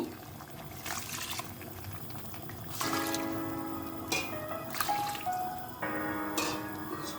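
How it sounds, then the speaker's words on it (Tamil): Hot water pours steadily into a pot of rice for mutton biryani, with splashing and gurgling that shifts in pitch as it fills; close by, no speech. "இப்போ தண்ணி ஊற்றிடலாம்."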